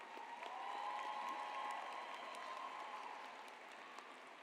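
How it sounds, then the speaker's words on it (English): A graduation ceremony audience applauds the parents, with steady, fairly distant clapping that swells a little and then holds. "So please give the parents a round of applause."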